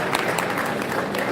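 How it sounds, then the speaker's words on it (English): An audience at a mentorship summit awards event in Kano claps in dense, steady applause, close and loud throughout. "and clap for me too."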